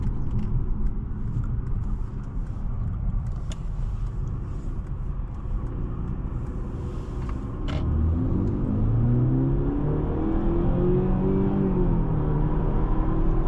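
Inside a 2025 Mercedes-Benz CLE 300 4MATIC, steady road rumble gives way to a low engine note that rises in pitch as the car accelerates smoothly, loud and continuous with no talking.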